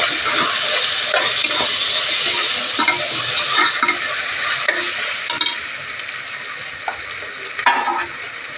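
Mint and coriander leaves sautéing in a pan of vegetable biryani base give a steady, close, bright sizzle, with scattered scraping stirs and soft clinks throughout and no talking.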